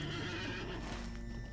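Horse neighing and whinnying with clip-clop hooves in the Lord of the Rings Online video game, a loud, continuous burst of equine calls over steady hoofbeats.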